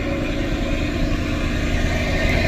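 Engine of a river passenger launch travelling slowly on the water, a steady low droning rumble, continuous and fairly close, with no voices.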